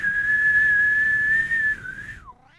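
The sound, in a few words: party whistle being blown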